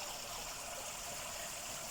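Water trickles and splashes steadily through a shower-style distributor in a garden pond filter rigged with tights and pressure filters, a soft constant hiss throughout with no talk.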